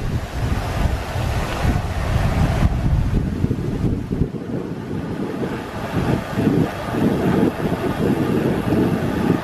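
Wind rushes past during a warm, sunny bike ride of 10 to 15 miles, a constant loud roar of buffeting gusts against the microphone throughout, with no voice.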